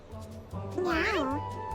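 A cartoonish cat in the game Mewgenics lets out a single drawn-out, wavering meow over a steady musical backdrop, with a person talking underneath.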